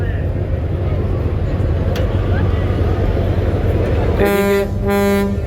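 A passenger launch leaving Sadarghat jetty sounds its deep horn in two blasts near the end, over a steady broadband roar of engines and riverside noise.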